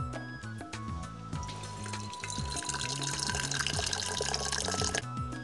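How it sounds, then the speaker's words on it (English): Boiling water poured into a container while preparing Japanese sake; a steady, close splashing stream runs under continuous background music for the whole stretch. "you pour boiling water into this container"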